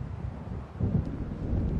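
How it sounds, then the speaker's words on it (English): Low rumbling thunder of an approaching storm in the Alan Wake video game, a steady dull roll with wind-like noise building slightly toward the end, no talk. "It seems there's a storm coming."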